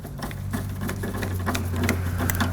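Fasteners being driven and tightened while projector beam headlights are installed, a steady mechanical whir with a low hum and repeated clicks, close and fairly loud throughout.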